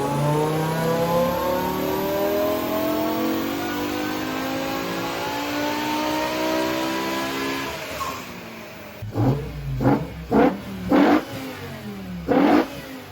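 A 17-year-old BMW E60 M5 engine sings on a dyno, climbing through a long rising rev run toward high RPM, then cutting off, followed by several short sharp blips of throttle.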